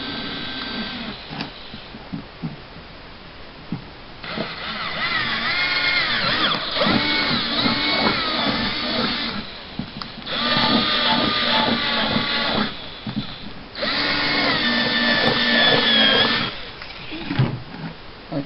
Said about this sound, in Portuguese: Aqui eu estou fazendo 2 furos só para começar o primeiro corte